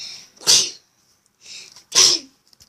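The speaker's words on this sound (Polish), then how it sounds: "atak kichania" A sneezing fit: two loud, close sneezes about a second and a half apart, each with a sharp breathy burst, alone with no talk.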